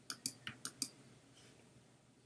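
Computer mouse clicking while working in Illustrator: five crisp, close clicks in quick succession, then a quiet stretch and one last click at the very end.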